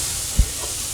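A tablespoon of butter sizzles in a skillet of nearly cooked chicken, a loud continuous hiss broken by one short low thump near the middle, with no voices.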